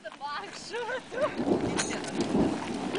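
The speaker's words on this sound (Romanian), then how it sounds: "A început ploaia!" Rain starts falling outdoors during a heavy storm, with a low rolling rumble of thunder under a steady wash of drops; excited voices call out at the start.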